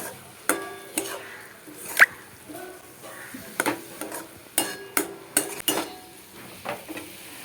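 Salt, turmeric, sugar and coriander powder get stirred together for an old Bengali recipe, a metal spatula scraping and clinking against the pan in irregular knocks and taps, with a faint sizzle beneath.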